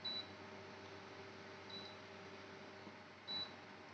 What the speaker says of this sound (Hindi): ये ब्लू लाइट आ गई है और बीप आपको सुन रही है